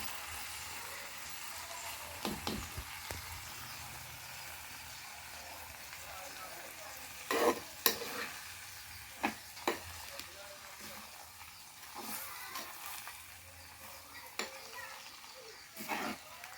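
Papaya thoran sizzles in a pan on the stove and is stirred, with scattered scraping knocks of the spoon over a steady low frying hiss, close and fairly quiet.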